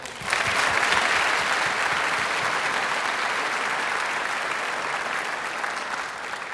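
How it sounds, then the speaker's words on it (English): Steady, loud applause from a large audience at a youth sports awards ceremony, sustained clapping that fills the whole stretch and slowly tapers near the end. "let's give a big round of applause for our incredible committee"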